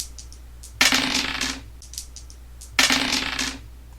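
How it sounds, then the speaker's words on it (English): Dice rattle in a cup and clatter onto a hard surface twice, each toss a brief burst of clicking and tumbling. "That is the sound of shaking and rolling dice."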